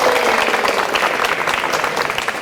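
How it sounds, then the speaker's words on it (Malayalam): Brief burst of dense studio audience clapping greets a contestant on a comedy game show, steady and loud throughout with no other sound standing out. "അനഘയെ സ്വാഗതം ചെയ്യാൻ സുഹൃത്തുക്കളെ കൈയടിച്ചുകൊണ്ട്"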